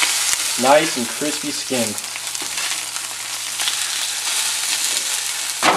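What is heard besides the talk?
trout searing and sizzling in a pan after flipping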